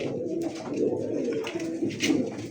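A pair of Iranian lark pigeons coo softly and close by, low rolling coos repeating through the brief moment with faint background noise.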